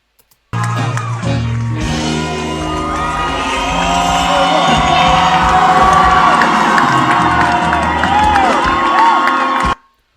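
A large concert crowd cheers and whoops loudly and continuously, with excited shouts rising over a dense roar before cutting off abruptly.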